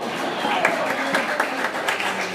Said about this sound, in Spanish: Otra vez, un aplauso para María Nelson.